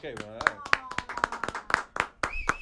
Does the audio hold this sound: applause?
yes